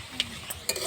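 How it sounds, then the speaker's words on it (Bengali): Bay leaf and whole spices frying briefly in hot oil for a duck curry, heard as a soft steady sizzle with a few light stirring clicks, close and fairly quiet, no voices. "ফোড়নটা 2 সেকেন্ডের জন্য ভাজা করে নিয়ে এবার একটা তেজপাতা দেব"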